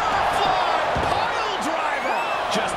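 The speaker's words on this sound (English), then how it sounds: "With every move you make, you hear this capacity crowd following you on that journey." A packed arena crowd in the WWE 2K23 wrestling video game roars continuously in the background while commentary talks over it.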